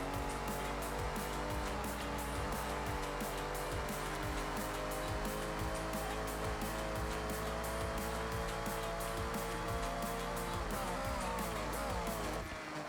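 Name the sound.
car engine in the Forza Horizon 6 racing video game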